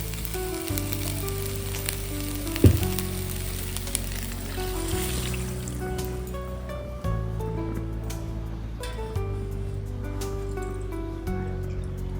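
Water and milk for veg pulao bubble and hiss steadily in a pot, a continuous soft boiling sizzle with a faint clink partway through.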